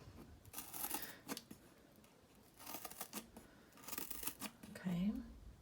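Scissors snip and crunch through cardboard while making a loom, a few short cutting bursts close to the mic, with a person talking quietly between them.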